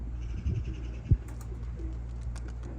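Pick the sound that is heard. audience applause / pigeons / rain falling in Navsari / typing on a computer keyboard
pigeons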